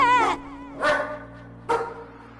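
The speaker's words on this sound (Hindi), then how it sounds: "अब तो बाहर के कुत्ते की आवाज आ रही है बस" A dog barks outside, three separate sharp barks spaced apart over a low steady hum.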